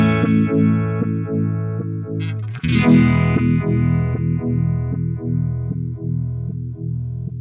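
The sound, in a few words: EHX Goodvibes pedal at full depth, aggressive stuttering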